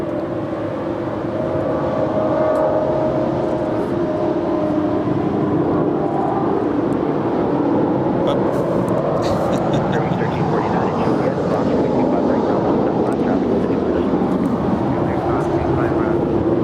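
A Western Global Airlines Boeing 747-400 cargo jet at LAX bound for Taipei sends out a loud, sustained engine roar that swells midway as a voice talks over it.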